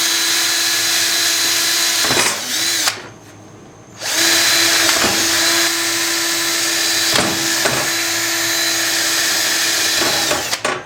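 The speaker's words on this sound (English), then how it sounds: "So I'm going to drill this." Power drill boring small air holes in a plastic bin for a homemade worm composter, a close high whine running steadily with a brief pause and short dips as each hole breaks through.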